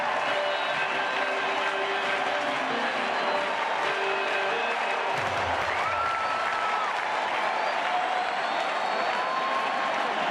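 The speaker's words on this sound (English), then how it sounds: "And this crowd has been loud all night" Loud crowd roar at AT&T Park during a night NLCS Game 2 baseball game, a sustained wall of cheering and clapping that stays constant throughout with no talk.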